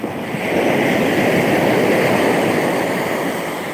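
Ocean waves rolling onto a salt-water shore, a steady broad roar of surf that builds after a moment and holds continuously, close and fairly loud, with no voices.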